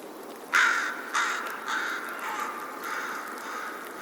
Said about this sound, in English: I added some rain noise and a crow